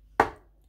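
A cake pan holding oats and banana batter is tapped once against a surface, producing a single short, close knock that fades quickly into quiet.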